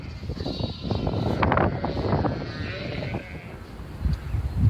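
Sheep bleat in a field, several calls overlapping close by and loud over a windy outdoor background, with a few more scattered bleats toward the end.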